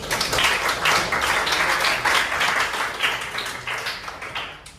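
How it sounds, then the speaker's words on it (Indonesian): Applause from listeners at the close of a meeting, fairly loud rippling claps in uneven waves that thin out and fade away at the end. "Tepuk tangan untuk kita semua."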